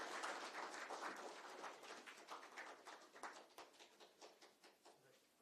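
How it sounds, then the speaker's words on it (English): An audience at a live corporate awareness-week event applauds, a dense wash of many hands clapping that starts strongest and gradually thins and fades over a few seconds, fairly faint overall. "Ladies and gentlemen, a big round of applause"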